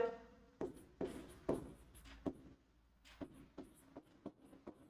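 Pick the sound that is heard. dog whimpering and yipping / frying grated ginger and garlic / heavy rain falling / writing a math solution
writing a math solution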